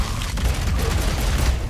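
Dense, continuous gunfire from the video game Evil West, a loud, sustained roar of shots with no distinct gaps and no speech.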